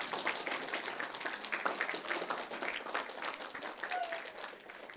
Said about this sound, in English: a rousing round of applause.